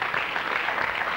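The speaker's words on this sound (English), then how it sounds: "Give him a round of applause" Brief burst of audience applause for a player at a 1991 trick shot competition, a short steady wash of clapping.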